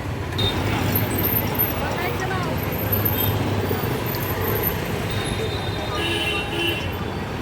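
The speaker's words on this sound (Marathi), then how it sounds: "ट्रॉफिक जाम झालेला आहे" Dense road traffic jammed near a busy market and temple during a Ganesh Jayanti festival crowd: a steady, loud wash of engine rumble and roadway noise with brief horn-like tones, crowd babble mixed in throughout.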